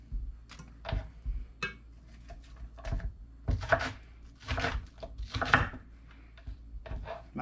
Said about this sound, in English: And I'm just roughly chopping them.